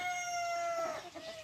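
A gamefowl brood stag crows close and loud in one drawn-out call that rises and trails off, with no talk over it.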